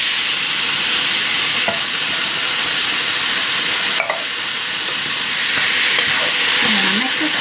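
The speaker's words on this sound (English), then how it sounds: "I'm gonna mix this all around." Palak paneer with canned tomatoes being stirred in a pan, a steady loud sizzle and hiss of frying throughout, with a few scraping strokes of the spoon against the pan and no talk.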